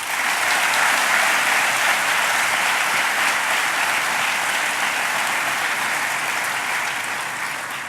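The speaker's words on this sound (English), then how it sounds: "May we have another round of applause," A graduation ceremony audience gives a guest speaker a round of applause, dense sustained clapping filling the hall at full strength and easing off slightly toward the end, with no voices over it.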